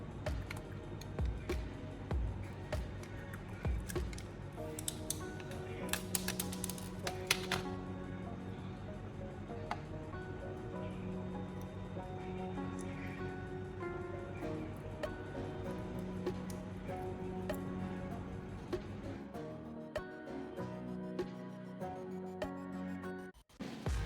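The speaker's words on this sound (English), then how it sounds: "I'll use a knife to peel off that insulating plastic layer." Knife peeling the insulating plastic layer off an old battery, with close scraping, ticking and clicking at an uneven pace under a background hum, including a cluster of sharper crackles early on and a quieter stretch near the end.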